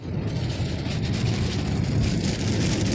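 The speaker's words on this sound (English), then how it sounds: "All of a sudden, it's like raining, but we're in Death Valley" Sudden rain falling in Death Valley, a dense steady hiss and patter of drops across the whole stretch, loud and continuous with a low rumble underneath and no talk.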